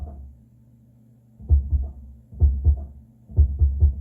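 A kick drum picked up by a Solomon subkick microphone thumps as deep, boomy low-end hits in small clusters of two or three, separated by short pauses over a faint low hum.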